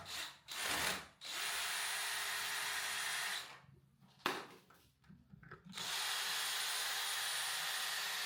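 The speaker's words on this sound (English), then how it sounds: "So what we're going to do, Lewis, once we've unscrewed them, we've got to break that Fascia fixing." A power drill unscrews fascia fixings on a Victorian conservatory roof, whirring loudly in long sustained runs broken by short pauses, with no talking.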